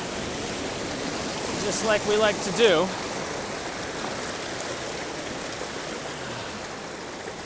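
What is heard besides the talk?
creek waterfall rushing water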